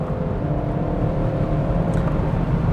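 Interior engine drone of a 2021 Audi RS6 Avant under full-throttle acceleration in RS2 mode, a steady loud low rumble with faint harmonic whine and no talking.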